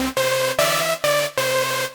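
A single sustained note from an ultrasaw synth lead made in Serum within FL Studio, a bright, buzzy stack of detuned sawtooth waves retriggered four times in a row, loud and alone.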